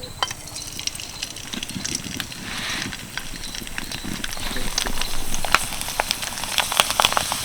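Semolina papad frying in hot oil, giving a steady close sizzle with dense crackling and popping that swells slightly toward the end, with no voices.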